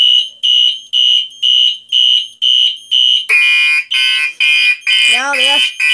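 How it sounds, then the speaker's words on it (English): A Simplex 4001 fire alarm on a second-stage Halon suppression system sounds in loud, rhythmic pulsing tones up close, then shifts to a denser, faster pattern joined by a warbling, rising and falling tone. "I'm going to have to activate the smoke detector manually."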